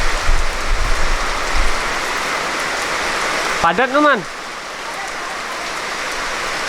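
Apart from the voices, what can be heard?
heavy rain during a storm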